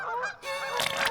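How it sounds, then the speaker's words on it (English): Geese in Poland honk in a short burst of several loud, nasal calls at first light, fairly close, with no talking over them. "Oh look, some Polish geese."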